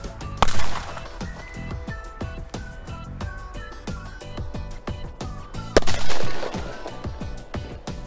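Loud explosive firecracker bangs burst out twice amid a dense crackle of pops and rattling detonations, harsh and close.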